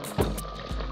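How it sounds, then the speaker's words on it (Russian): Freshly boiled water poured into a multicooker over stewing meat, a brief close liquid splash and fill with no talking. "Воды наливаем немного, так чтобы слегка покрыло мясо."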